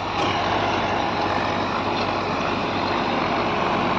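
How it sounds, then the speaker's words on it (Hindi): An 8055 tractor pulls a ten-foot 9563 rotavator through a field, its engine a steady, loud, unbroken drone with dense churning noise throughout. "बहुत बढ़िया ट्रैक्टर चल रहा है बिल्कुल खुल के मिट्टी भी दे सकते हैं"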